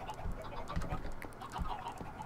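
Chickens cluck repeatedly at close range, several overlapping soft calls with a steady low rustle of background noise.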